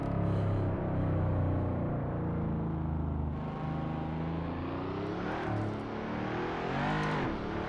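A paddle-shift race car in Assetto Corsa drones steadily under load, its engine note holding then dropping and climbing again through shifts, close and continuous with no talk.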